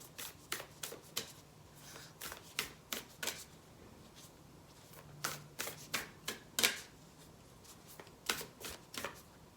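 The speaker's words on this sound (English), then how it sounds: "These cards are so big, so they're hard for me to shuffle." Large oracle cards are shuffled by hand in a quiet room: sharp papery riffles and clicks come in irregular bursts, close and soft, with no talking.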